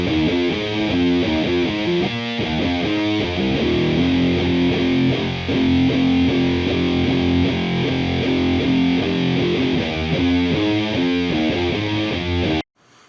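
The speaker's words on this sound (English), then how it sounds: "Now, if we go on to the main rhythm guitars, that's going to be the guitar 2 and guitar 3." Two distorted doom/sludge metal rhythm guitars without effects, playing a slow, heavy chugging riff with sustained droning notes, loud and dense, ending abruptly, with no voices.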